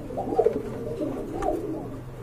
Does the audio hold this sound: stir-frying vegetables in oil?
no